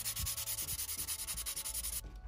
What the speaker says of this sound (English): I ended up with a 600 grit to sand the entire body in order to prepare it for the primer stage